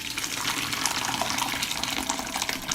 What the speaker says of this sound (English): I put cheesecloth on the colander and strain the cheese.